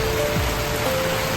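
Steady rain patters on a surface in a brief, even hiss with a faint tone humming underneath.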